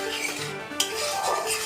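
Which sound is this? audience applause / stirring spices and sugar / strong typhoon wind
stirring spices and sugar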